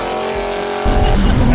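A Dodge Viper revs hard in third gear near 5,500 rpm, then breaks into a loud, close burnout as a rough roar of tire noise surges in partway through and carries on to the end.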